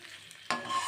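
Small fish with raw mustard oil are stirred in a frying pan, a quiet sizzle suddenly swelling into a louder scraping stir halfway through the short moment.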